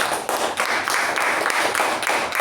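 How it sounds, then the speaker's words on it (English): Lively applause at a club meeting for the club president, with dense, steady clapping that stays loud and close throughout and pulses slightly as hands strike. "Let's give a big round of applause to our president."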